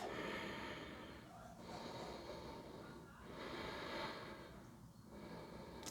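Slow, deep breaths during gentle yoga stretches, several soft airy inhales and exhales in a steady rhythm, close and quiet, with no talking.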